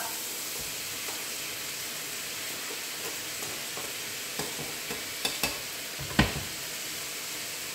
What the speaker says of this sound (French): on va rajouter nos champignons dans notre poêle